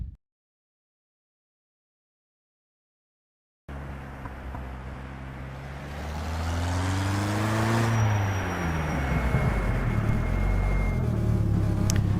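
A Skip Barber race car in rFactor 2 starts after a moment of silence. The engine drones loudly, revs climb through a gear, then it keeps pulling at high revs.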